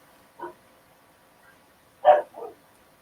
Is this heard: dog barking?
yes